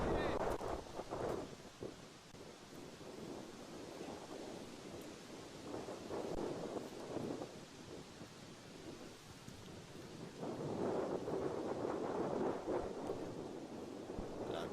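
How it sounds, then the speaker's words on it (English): Gusty wind buffets the microphones at an outdoor cricket match in Morrisville on a cold day, rumbling in swelling waves that rise and ease over the whole stretch, fairly faint overall. "I know you can hear the wind in your screens at the moment"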